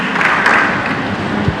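Applause from an audience at a college folk-song singing competition, a broad steady wash of many hands clapping that carries on evenly from start to finish.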